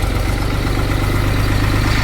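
Farm tractor engine pulling up a small slope on a dirt track between fields, a loud steady low rumble with constant throbbing vibration and no talk.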